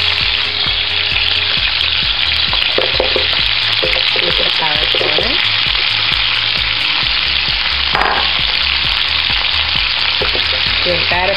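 Carrots frying in a pan, a loud, dense sizzle held throughout with scraping and clatter from stirring, under a low steady hum.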